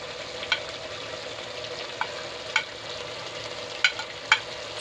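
Kohlrabi and green peas fry in a pan after panch phoron spices go in, a steady low sizzling hiss with a few sharp clicks and pops scattered through it.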